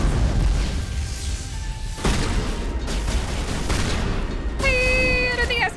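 Rapid gunfire from a Mass Effect firefight rattles on continuously at close range, dense bursts layered over game noise, with a brief electronic chirping tone near the end.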